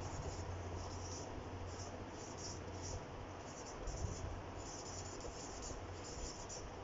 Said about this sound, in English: let me write down the statement.